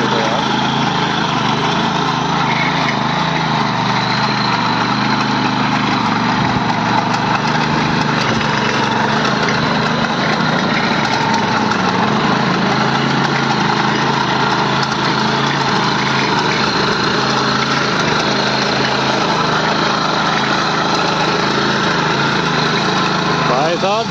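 A power tiller engine labours under heavy load while ploughing a field, giving a loud, steady, rough drone that runs unbroken throughout.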